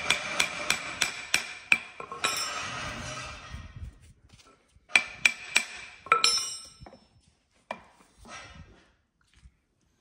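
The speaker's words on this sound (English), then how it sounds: "using a soft hammer, copper hide hammer, you could use just a normal hammer with a bit of wood" Sharp metallic taps from a soft copper-hide hammer striking the bolt of a Mk7 Ford Transit propshaft centre bearing, a quick run of evenly spaced blows, a pause with rustling, then more bursts of close, ringing strikes.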